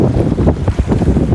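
Strong wind at sea buffets the microphone with loud, rough gusts while out fishing on the water, a constant close roar with no voices.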